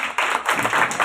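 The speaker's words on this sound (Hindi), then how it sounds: "एक बार जोरदार ताली" Applause from an audience at a four-day training session of the National Workers' Education and Development Board, a dense patter of clapping that surges and fades over about a second, fairly loud and close.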